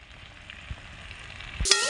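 Onion and bitter gourd fry in a pan with a soft, quiet sizzle and a few light clicks, then a sudden louder burst of hissing right at the end.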